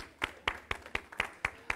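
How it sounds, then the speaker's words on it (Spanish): Congregation at a church service applauding, seven sharp evenly spaced claps about a quarter second apart, faint and fairly distant, with no talk over them. "Demos un aplauso al Señor"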